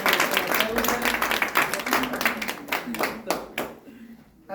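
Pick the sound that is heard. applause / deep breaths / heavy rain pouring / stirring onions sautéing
applause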